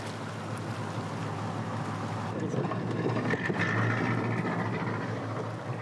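A trawler's engine drones steadily at low speed while towing its net along the seabed in the Andaman Sea, a constant low rumble mixed with wind and water noise.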